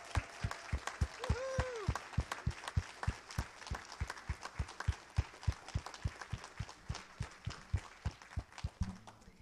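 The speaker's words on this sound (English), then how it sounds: "again, just give them a round of applause." Steady, rhythmic clapping from a church Christmas pageant audience, evenly paced and fairly loud, with a brief whistle-like tone early on.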